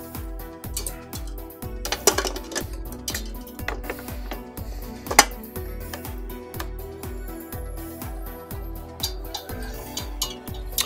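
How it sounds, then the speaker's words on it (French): A hand whisk beats a génoise batter of eggs and sugar in a metal bowl, cooling after heating to 63 degrees: rapid, regular metallic ticks and clinks in a steady rhythm, close and clear, with no talk. "je monte au fouet, au ruban, donc jusqu'à complet refroidissement"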